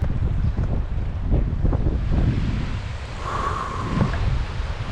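Gusty wind buffeting the microphone on the seafront at Rimini, Italy, with a broad roar of surf beneath it and no voices.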